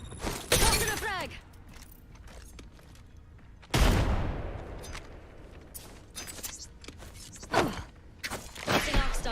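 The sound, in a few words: frag grenade thrown in a video game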